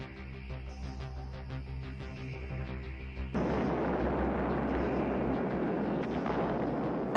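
A nuclear bomb test explosion arrives as a sudden, heavy broadband roar that sweeps in over a low steady hum and keeps thundering at full strength, distant yet overwhelming, with no voices.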